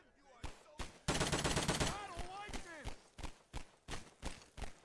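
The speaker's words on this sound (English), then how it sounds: "He's firing." Gunfire in a Garry's Mod cops-versus-robbers shootout: a dense rapid automatic burst followed by a steady series of sharp single shots at a regular pace, loud against background voices.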